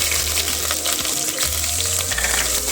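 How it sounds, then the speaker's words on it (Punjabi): Onions sizzling and frying in hot oil with cumin already tempered, the base for vegetable namkeen rice: a dense, close, steady crackle with faint stirring scrapes and a low hum underneath, with no talking. "ਪਿਆਜ਼ਾਂ ਨੂੰ ਭੁੰਨ ਲਵਾਂਗੇ"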